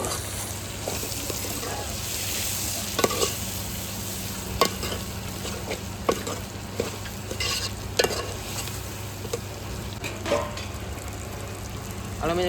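Tomatoes with turmeric and asafoetida fry for brinjal oro (ringan no olo) and are stirred, giving a continuous sizzle broken by repeated sharp spoon knocks and scrapes against the pan.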